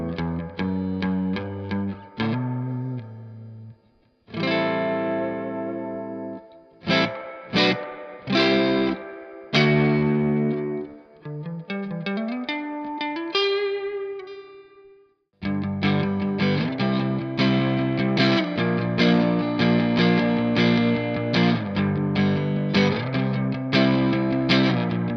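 Electric guitar played through the Safari Pedals amp sim on an Evo preset, distorted chords and single notes with pauses, followed by a sustained strummed passage.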